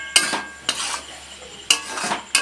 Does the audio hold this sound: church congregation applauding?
no